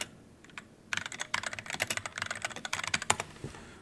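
Rapid, uneven clicking of keys on a computer keyboard, close and crisp, in quick bursts with no talking.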